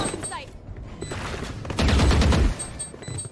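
Rapid bursts of rifle gunfire in a Valorant pro match on the Bind map, with a louder, denser volley in the middle of the clip over constant game ambience.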